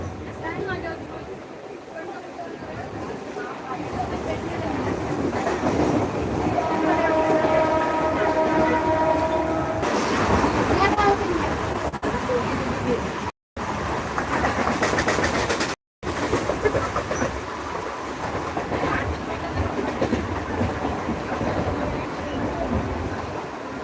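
A Mumbai local train runs toward Andheri, a loud steady rumble and rattle of the carriages with a horn-like tone partway through and brief dropouts, while people talk over the noise inside the coach.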